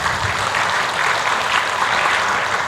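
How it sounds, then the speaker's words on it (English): Loud, dense applause from a symposium audience for the speakers at the ICAL 2022 session on big data in assessment, steady clapping throughout with no voices. "Give a round and big applause for all the speakers."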